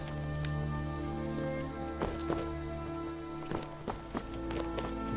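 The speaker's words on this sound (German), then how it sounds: "die Fußstapfen sind halt wirklich sehr," Footsteps in Skyrim, a string of muffled steps over a droning musical background, moderately loud with an irregular rhythm.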